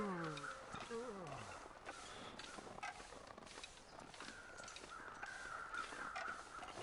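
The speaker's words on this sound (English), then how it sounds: "the wolves are crying again, howling" Wolves howl in the snowy wilderness of the survival video game The Long Dark, with long rising and falling cries that are faint and distant and sit under a person talking.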